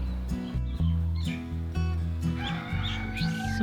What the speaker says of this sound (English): There's so many beautiful bird sounds on this road.